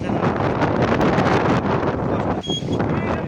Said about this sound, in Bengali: কি জোরে বাতাস হচ্ছে